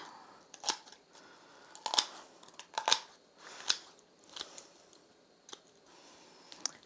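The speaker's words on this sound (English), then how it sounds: "you simply use a good pair of poultry shears or sharp scissors" Poultry shears snip and crunch through a chicken's backbone in several separate cuts, with short crackling bursts spaced out irregularly, close by and without talk.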